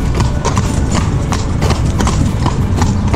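Horse hooves clip-clop steadily on pavement as a carriage rolls through Jerez de la Frontera, a repeating near, loud rhythm under continuous street and wheel noise.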